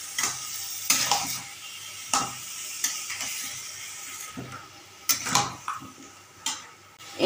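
Diced pumpkin and potato tipped into a hot pan for a spiced pumpkin curry, a soft sizzle broken by several sharp clattering scrapes of a spoon stirring against the metal, fairly quiet and close.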